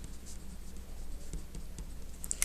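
A pencil scratches across paper during a geometry lesson, a faint, close, dry rasp of quick strokes with a few sharper taps, alone without talk.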